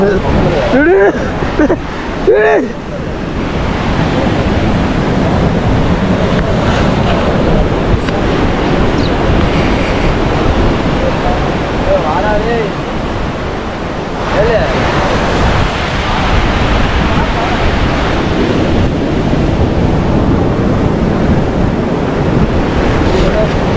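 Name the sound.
ocean waves breaking at Odayam beach, Varkala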